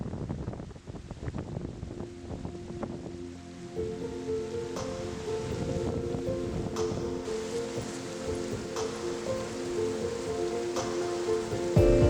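A waterfall cascades in a steady, broad rushing wash of water, close and constant throughout, with a few small knocks and handling sounds on top.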